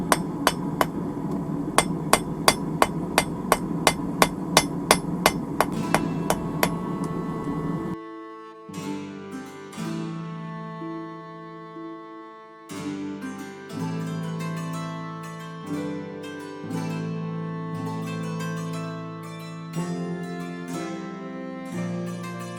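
A steel bolt is hammer-forged into a Mjolnir (Thor's hammer) pendant: about a dozen sharp, ringing, evenly spaced strikes, close and loud, then music takes over.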